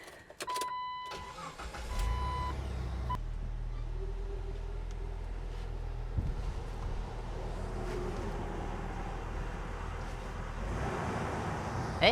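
Jeep Wrangler raised on jack stands with its drivetrain running and wheels spinning freely, a steady low engine and driveline drone after a brief clatter at the start, continuing evenly before cutting off near the end.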